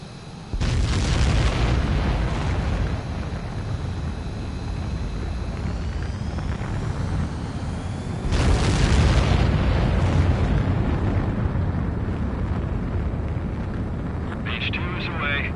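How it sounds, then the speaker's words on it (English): Fighter jet engines roar loudly through a takeoff launch in the video game Ace Combat 7, a sustained rumble that surges again partway through as thrust builds, with radio-style voices speaking over it. "H2, begin takeoff sequence."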